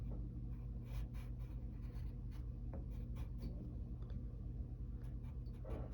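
Pencil strokes scratch softly on paper while an eye is drawn, with short repeated scraping marks in an irregular rhythm against a quiet background hum.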